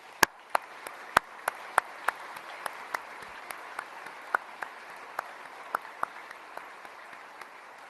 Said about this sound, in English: Let's give the entire Holsey family a round of applause.